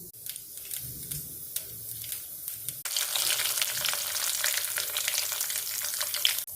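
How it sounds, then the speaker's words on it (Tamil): Hot oil sizzles with a sharp, crackling roar as curry leaves, chillies, mustard seeds, urad dal and chana dal hit the pan for tempering, after a few seconds of quieter stirring and light pops. "கருவேப்பிலை, மிளகாய், கடுகு, உளுத்தம்பருப்பு, கடலைப்பருப்பு இதெல்லாம் போட்டு தாளிக்கலாம்."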